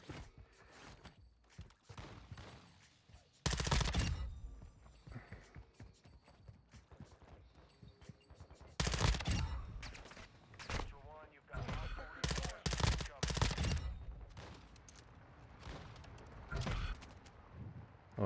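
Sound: video game machine gun fire

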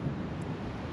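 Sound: wind blowing

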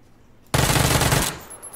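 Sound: full-auto gunfire in PUBG video game

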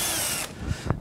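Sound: drill boring hole through guide bush

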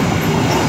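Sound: empty coal freight train passing

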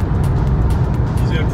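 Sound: car speeding past on a public road at night

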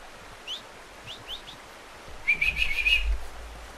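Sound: whistling for horse in Red Dead Redemption 2 video game

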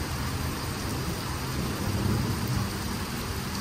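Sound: rain during a thunderstorm in eastern Kentucky

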